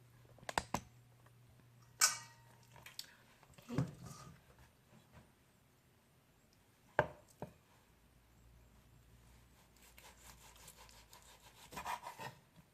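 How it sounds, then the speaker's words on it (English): A knife slicing beef shank on a cutting board for bun bo hue, giving scattered quiet cuts and board knocks with a few sharper taps, faint and irregular, in a quiet kitchen. "This is the beef shank. I'm gonna slice this."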